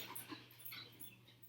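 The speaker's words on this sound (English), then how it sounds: "that's my dog playing" Two dogs playing together indoors, heard as faint, scattered whimpers, yips and panting at a distance against a low background hum, with no talking.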